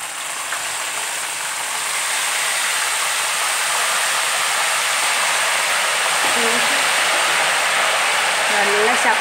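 Salt and turmeric water hitting hot oil while banana chips fry in a Kerala kitchen, a steady, loud hiss and crackle that builds slightly and continues throughout, with a voice briefly heard near the end.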